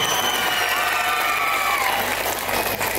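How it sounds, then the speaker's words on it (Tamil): An audience at a school annual day claps loudly and continuously, a dense, even wash of applause lasting the full few seconds. "நல்ல கைத்தட்டல் தாங்க இந்த குழந்தை."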